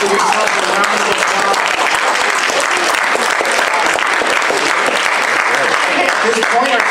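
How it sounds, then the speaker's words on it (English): Steady applause from an audience of students and families closing a school spelling bee, dense clapping held at an even level throughout with a few voices mixed in. "Give yourself a round of applause."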